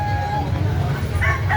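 A gamefowl rooster with yellowish legs crows once, fairly close, over a steady low hum and faint murmur of people nearby.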